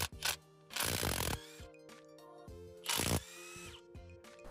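Bosch 18V cordless impact wrench fitted with a 17 mm socket, loosening a trailer's rear axle bolt: two loud, rapid hammering bursts of about half a second each, with quieter motor whirring and clicks between them.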